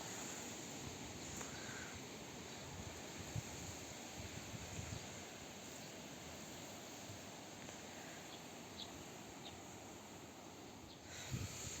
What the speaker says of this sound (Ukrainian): Вітер скажений.